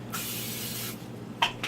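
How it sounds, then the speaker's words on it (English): Cooking spray hisses from a can into a baking dish in a home kitchen, one long burst of close spray followed by two short puffs. "So, want to spray your baking dish."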